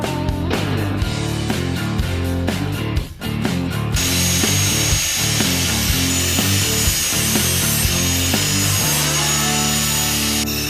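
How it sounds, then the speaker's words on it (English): Powder coating being sanded off a car's subframe connector at the weld points, a loud continuous abrasive grinding with a strong droning hum, running steadily throughout with a brief dip near the start, no voices. "Now sand off all the powder coating at all the points on the subframe connector where you're going to be welding."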